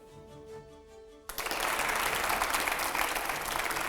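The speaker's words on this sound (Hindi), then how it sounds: "जोरदार तालियां हो" Loud studio audience applause bursts in abruptly after a quiet tonal pause and continues steadily at a Hindi TV talk show with five editors questioning BJP MP Arun Govil.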